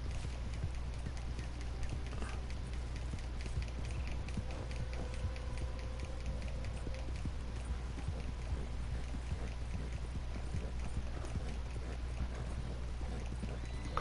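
Horses gallop in the Red Dead Online video game, a steady rapid drumming of hoofbeats running continuously under low rumbling game ambience, with faint voices in the background.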